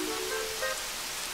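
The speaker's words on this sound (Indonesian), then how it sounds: "Aduh, kenapa hujan?" Rain falls in a Robocar Poli cartoon as a soft, even wash of noise, with faint tonal sounds from the soundtrack layered over it.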